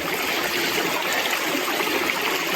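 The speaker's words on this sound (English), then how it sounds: "This is an artesian spring right there, that water coming out." Water flows steadily out of an artesian spring, a loud, close, continuous rushing and trickling with no pauses or voices.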